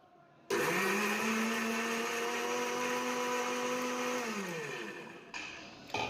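A kitchen blender whirs steadily while blending watermelon into juice, starting abruptly with a loud motor whine that holds, then winds down near the end with a brief rattle afterward.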